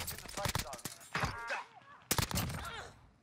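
Gunfire in the Warzone battle royale game on Rebirth Island, a few sharp shots and short bursts mixed in among excited player chatter, fairly loud and close.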